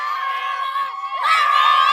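Children at a village football match shout and cheer together after a goal, a loud high-pitched burst of voices that swells midway and stays strong to the end.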